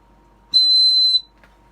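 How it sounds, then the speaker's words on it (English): A snake-shaped dog whistle gives one sustained, shrill, steady tone lasting about two-thirds of a second, close and loud, followed by quiet. "Seems like it's a dog whistle."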